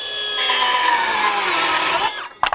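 A Milwaukee M12 FUEL Gen II 5-3/8 inch cordless circular saw cuts through wood at full depth with a loud, steady, high-pitched whine lasting under two seconds, then winds down with a few clunks as the cut ends.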